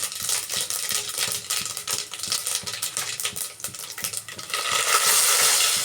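Mustard seeds and cumin sizzle and crackle in hot oil for a Telugu-style dal curry tempering, a dense, steady spitting hiss close up that swells louder toward the end, with no voices.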